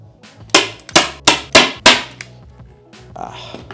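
A staple gun fires staples through fabric into a homemade ironing board, giving five sharp, loud snaps in quick, even succession, each one close and crisp, followed by a softer rustle of handling.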